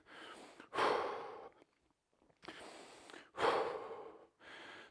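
Heavy panting breaths during recovery from a bodyweight Tabata home workout, close and loud, with long forceful inhales and exhales in an uneven rhythm, separated by short silent pauses, without speech.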